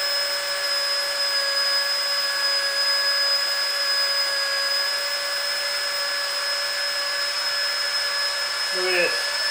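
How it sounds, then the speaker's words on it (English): A Nitecore AP10 rechargeable deflator sucks air out of an inflatable, making a steady high-pitched electric motor whine with tonal hums that runs unbroken and fairly loud, with a brief bump in pitch near the end. "That deflator is a huge asset. See it? Look at it. Sucking it right down."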